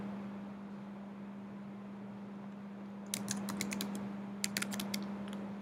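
Fingers typing a password on a computer keyboard, a quick burst of light clicks starting a few seconds in and a second short flurry near the end, heard alone over a steady low electrical hum.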